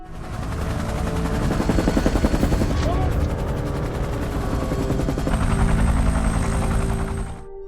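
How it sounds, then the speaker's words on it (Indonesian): Two combat helicopters and gunfire in a film scene: a loud, continuous rotor thump under rapid bursts of automatic fire, with a brief sharp burst mid-way and the chopping holding to the end. "ia pun mengerahkan kedua unit helikopter tempur dan suatu skuad pasukan khusus untuk memusnahkan markas Claudio"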